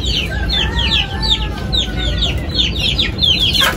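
Chickens and an Aseel rooster cluck and chirp in a busy coop, a steady stream of short, repeated calls over low background noise with no talking.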